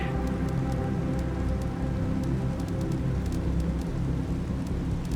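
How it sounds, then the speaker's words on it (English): Steady rain falls in the video game The Planet Crafter, a dense continuous hiss scattered with small drop taps and occasional louder splashes, with no voices. "It is raining!"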